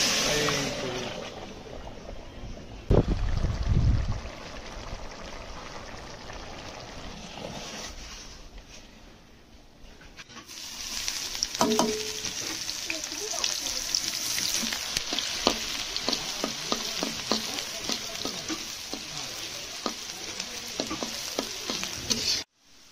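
Rice fries in oil in a pot for Bangladeshi pulao, a quiet start giving way to a loud, continuous sizzle with repeated scraping stirs of a spoon against the pot, no one talking.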